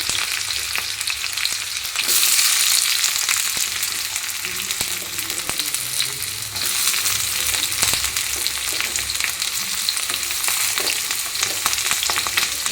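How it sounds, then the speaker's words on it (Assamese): Onions fry in hot oil with whole garam masala and a dried red chili, giving a loud, continuous sizzle close up, with occasional scraping from stirring. "ধুনীয়াকৈ পিঁয়াজখিনি দি দিওঁ এতিয়া"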